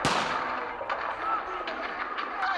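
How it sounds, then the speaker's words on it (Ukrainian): A loud gun blast rings out, followed by scattered distant shots and booms echoing in a continuous battle-like din, from a recording of mixed gunfire and explosions played on a soldiers' training obstacle course. "аудіозапис, у якому перемішані постріли вибухи"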